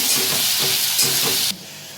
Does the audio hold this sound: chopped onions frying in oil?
yes